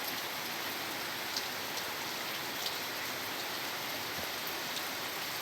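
Rain falls steadily and evenly in a garden during the rainy season, a soft continuous hiss with occasional louder drips, faint and unbroken, with no voices.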